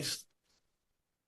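A single sharp sneeze bursts out at the start, loud and close, then fades into near silence with a faint breathy trace afterward.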